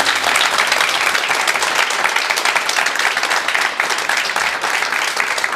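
A crowd bursts into dense, sustained applause, an even roar of many hands clapping continuously with no voices on top.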